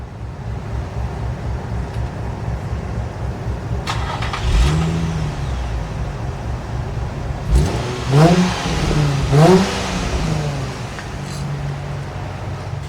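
Car engine fitted with a thin-walled, quiet-type polished stainless steel exhaust idles steadily, then gives two sharp revs and a burst of quick blips before settling back to idle, close and loud.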